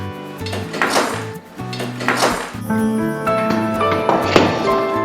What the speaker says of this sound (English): Now that everything's in the bowl, it's time to mix it up.